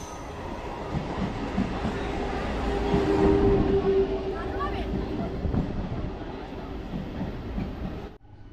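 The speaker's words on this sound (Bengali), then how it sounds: "এক্ষুনি একটা ট্রেন আসবে যত সম্ভব" A train approaching and rolling past a trackside spot, a steady loud rumble swelling toward the middle with a brief high wheel squeal, then cutting off abruptly near the end.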